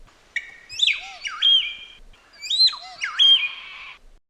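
Palm cockatoo calls: two loud, close phrases of whistled, rising and swooping syllables, each with a distinctive looping squawk, separated by a brief gap.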